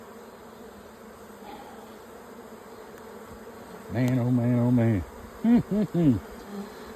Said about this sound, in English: I like seeing all those bees